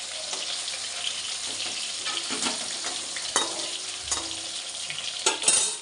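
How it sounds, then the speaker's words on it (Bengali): Stuffed pointed gourd fritters frying in oil in a covered pan give a continuous bright, hissing sizzle at close range, broken by a few sharp pops and clinks toward the end, with no voices. "একটু ঢেকে ঢেকেই ভাজতে হবে।"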